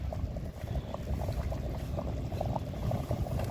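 Steady bubbling of a thick mutton curry boiling in a pot, continuous and close, with soft popping bursts throughout.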